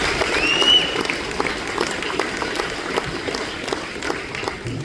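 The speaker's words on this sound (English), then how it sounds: "a round of applause goes to the Fair Board" Crowd applause for the Fair Board at the Knoxville Nationals sprint car drivers meeting, steady clapping from a gathered group lasting throughout, with a faint whistle near the start.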